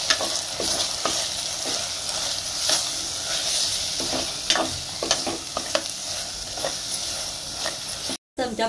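Spice powders, garam masala and fennel masala are stirred into veg pulao in a hot pan, a constant close sizzle broken by repeated spoon scrapes, with a brief dropout near the end.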